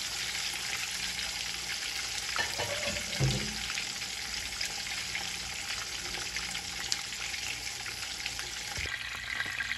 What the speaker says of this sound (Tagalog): Medyo mahirap siyang iprito mga kabeshi.